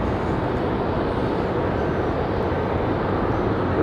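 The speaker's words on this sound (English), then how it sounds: "JetBlue getting ready for their departure, an A220" A JetBlue Airbus A220-300 departs Raleigh-Durham International Airport with a steady, loud broadband jet roar that holds constant throughout.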